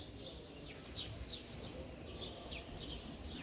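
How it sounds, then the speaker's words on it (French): Small birds chirp in short, scattered high tweets across a quiet outdoor terrace in the centre of Calpe, fairly faint over a low ambient rumble, with no talking. "on n'entend rien, à part les petits oiseaux"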